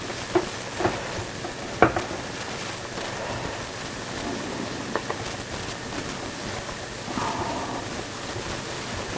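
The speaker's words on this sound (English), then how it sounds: "just keep stirring, don't stop stirring, because as soon as you stop stirring it solidifies too much" Scrambled egg being stirred in a pan, a soft continuous scraping and light sizzle with a few sharper utensil clicks against the pan, close and fairly quiet, no voices.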